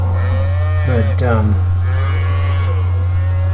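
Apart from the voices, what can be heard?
cattle mooing in a corral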